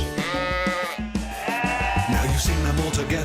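Cartoon farm sheep bleat in repeated close calls over a bright, continuous musical backing, the bleats rising and falling through the whole stretch.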